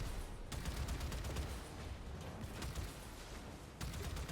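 A cannon battery fires inside the Warframe game as a steady low rumbling barrage, with a few sharper blasts standing out from dense, continuous combat noise.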